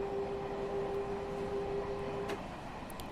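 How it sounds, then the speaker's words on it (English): A Long Island Rail Road train in Train Simulator Classic produces a steady, fairly quiet rumble with a sustained tonal hum over a broad noisy drone, no voices. "Yes, the train does sound awesome, Blue Vibes"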